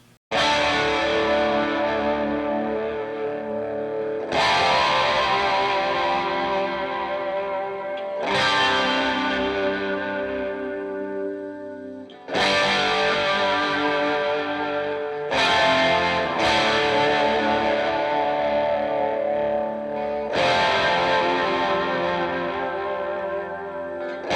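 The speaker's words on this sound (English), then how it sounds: "The guitar is slightly driven, but it does kind of have a cleaner sound to it" Strummed electric guitar chords with light overdrive and a fairly clean edge, ringing out in steady repeated strums with chorus-like shimmer and echo.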